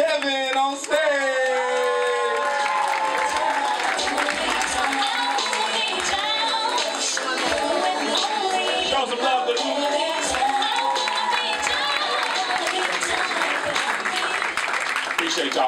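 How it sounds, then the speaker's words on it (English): A comedy show audience applauds and cheers as a comedian takes the stage, a dense crowd roar with clapping and whoops, while a voice talks and shouts over it throughout. "y'all give a big round of applause for my man, Kevin on stage"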